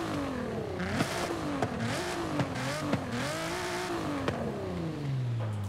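A Nissan GT-R R35 Nismo engine in Forza Horizon revs and drones continuously, its pitch rising and falling in waves with brief sharp pops between, loud and close.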